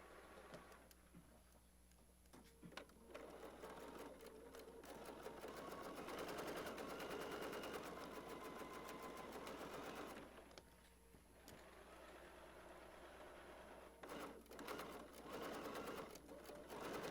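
Sewing machine stitching quilt blocks, a steady rapid mechanical whir in long runs with short pauses and clicks between, close and fairly quiet, no talk.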